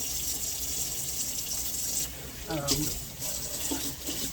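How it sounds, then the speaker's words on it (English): Tap water runs steadily into a sink while reusable cheesecloth is washed out, a continuous broadband rush with some sloshing and splashing toward the end, under a faint voice. "Then I need to wash out my cheesecloth, which are reusable."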